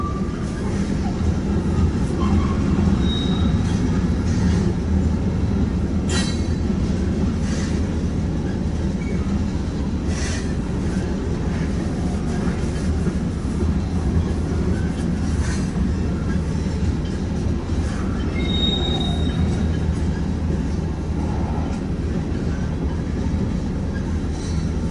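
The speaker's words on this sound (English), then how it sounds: "This whole train is loaded propane tanks coming south from up north." A long southbound freight train of loaded propane tank cars rolls past on a single-track main line, a steady rumbling roar with occasional wheel squeals and clanks, continuous and close throughout.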